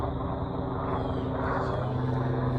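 A helicopter drones steadily nearby at sunset, its low rotor and engine hum holding constant with no voices.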